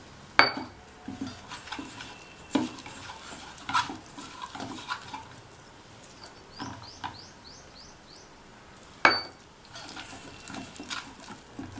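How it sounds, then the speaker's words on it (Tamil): Banana batter for vazhakkai 65 being mixed by hand in a bowl, with soft scraping and stirring and a few sharp utensil clinks against the dish, close and fairly quiet, with faint bird chirps in the background. "எல்லாத்தையும் நல்லா ஒன்றா மிக்ஸ் பண்ணி விட்டுக்கணும்."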